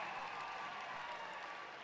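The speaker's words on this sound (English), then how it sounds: "cheering for that effort from their team" Hardin fans cheering and applauding at a boys' basketball game, a faint, even wash of crowd noise heard from a distance without any distinct peaks.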